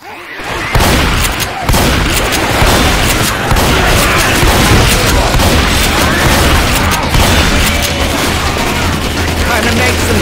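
Dense, loud gunfire and booming explosions from a grenade launcher in Left 4 Dead 2, a continuous roaring barrage with voices and zombie chaos mixed underneath.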